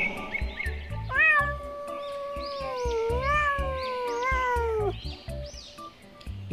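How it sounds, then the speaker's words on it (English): A single long, wavering cat meow rises and falls over a light musical backing, loud and close. "C for cat."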